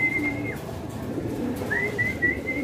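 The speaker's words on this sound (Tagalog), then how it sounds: "Dalawa mga Kalapatids." Racing pigeons coo softly at a loft as birds return from a first-lap derby race. Faint, brief calls sit over quiet background noise, with no talk.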